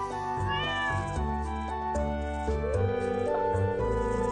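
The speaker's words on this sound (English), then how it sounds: "it's a cat." A cat meowing in the video game Stardew Valley, heard over steady background music that plays throughout, with no one talking.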